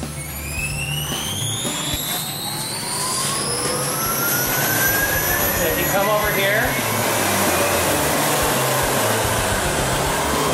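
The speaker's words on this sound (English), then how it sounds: "Go ahead and turn on the vacuum." An industrial vacuum on an RZ RT3 ride-on floor grinding machine runs loud and steady, a high whining roar with rising tonal sweeps as it spins up, with a brief voice calling out over it.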